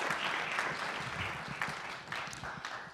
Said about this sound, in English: another round of applause for that wonderful presentation